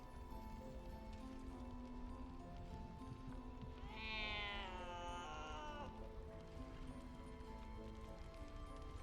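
A cat in Baldur's Gate 3 lets out a single drawn-out meow partway through, rising and then falling, over a steady bed of game music and ambient rain-like noise.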